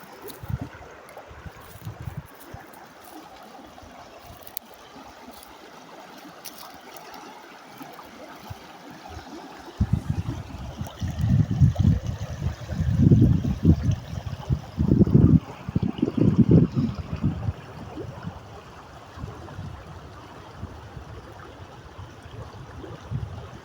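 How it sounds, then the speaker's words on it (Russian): A mountain river flows through a forest with a soft, continuous rush, steady and fairly faint at first, then swelling with louder bursts of churning water midway. "Вот такая вот речка горной породы."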